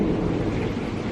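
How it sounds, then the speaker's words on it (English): Thunder rumbles through a thunderstorm outdoors, a loud, sustained low roar with broadband rain-like hiss, steady across the short stretch without pause. "Here comes the thunder."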